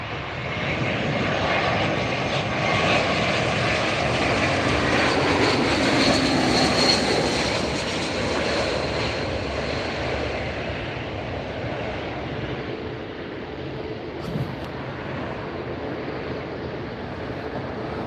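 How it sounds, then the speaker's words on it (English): A JetBlue airliner landing at LAX makes a loud, steady jet roar that swells and then eases slightly as it passes close by, heard on its own without voices. "JetBlue, nice touchdown, and we got Virgin Atlantic headed out."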